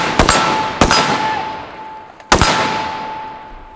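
Three sharp, loud rifle shots fired during a close-range shooting drill while moving, each a crisp crack with a ringing tail, spaced irregularly with the last after a longer pause.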